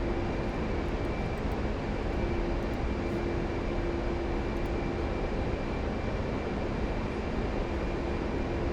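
An A-10C jet flies level on autopilot in the DCS flight simulator, its twin engines a steady, even roar with a faint constant whine, unchanging throughout and with no talk.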